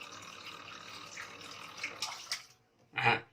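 Water draining out of a washing machine, a steady rushing flow for about two and a half seconds that tapers off, followed by a brief splashing gush.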